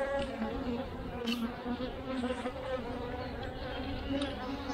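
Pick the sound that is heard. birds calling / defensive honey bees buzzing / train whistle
defensive honey bees buzzing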